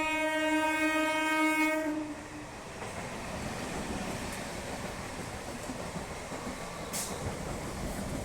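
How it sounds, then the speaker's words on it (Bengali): Train passing through a railway station, opening with a long loud horn blast, then a steady rumble and rolling clatter of wagons continuing at moderate distance. "ঠিক তখনই একটি ট্রেন আমাদেরকে ক্রস করে চলে যাচ্ছিল পরবর্তী স্টেশন বাঁশবেড়িয়ার দিকে"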